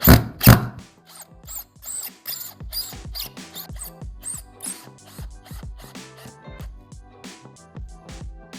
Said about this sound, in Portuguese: nós estamos colocando 4 parafusos, né, para ficar bem firme